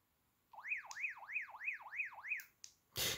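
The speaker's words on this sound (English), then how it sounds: "you can hear the siren sound there" A Baofeng UV-5R handheld radio's alarm siren warbles in a rapid rising-and-falling pattern, repeating about seven times, thin and tinny, then breaks off into a short hiss.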